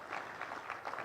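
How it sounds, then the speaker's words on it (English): An audience at a Uganda–South Africa trade and investment summit claps, a dense steady patter of many hands heard from some distance, brief and unbroken. "I'd like my compatriots in Uganda to give a big hand clap to our visitors"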